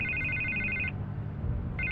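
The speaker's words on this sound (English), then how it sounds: "I can't get the phone to stop ringing." A telephone rings in the video game Shadow of Vengeance with an electronic trilling bell, one ring lasting just under a second, a pause, then the next ring starting, over a low background hum.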